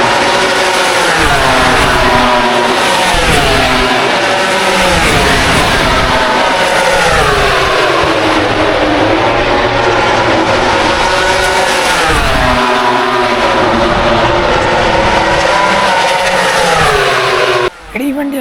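MotoGP racing motorcycles at the Sepang circuit in Malaysia roar loudly and continuously, engines screaming and rising and falling in pitch as the bikes pass close by, with crowd and track noise around them.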